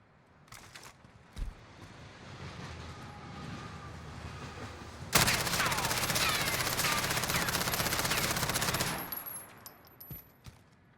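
Rapid sustained burst of submachine-gun hipfire from an MP5 with a muzzle brake in Call of Duty Warzone, loud and dense for about four seconds, with a few faint isolated shots before and after.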